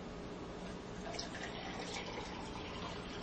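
Water pours steadily into a 16-ounce pint glass, a continuous faint splashing fill with no talk.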